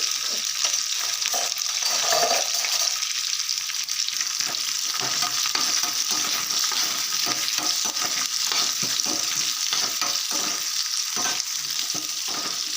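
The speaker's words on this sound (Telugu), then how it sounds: "కొంచెం శనగపప్పు ఆనియన్స్ పచ్చిమిర్చి అలాగే కరివేపాకు వేసుకొని ఒకసారి కలిపేసుకుందాం" Chana dal, onions, green chillies and curry leaves fry in hot oil with mustard seeds for little millet pongal, a constant dense sizzle with frequent scraping stirs throughout, close and loud.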